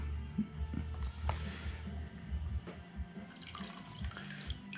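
Water sloshing and trickling as paydirt and black sand are washed in a gold pan, a quiet, continuous swirling and dripping close by.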